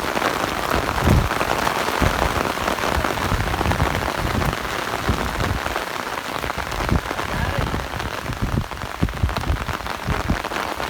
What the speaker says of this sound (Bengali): বৃষ্টি আবার জোরে নেমে গেছে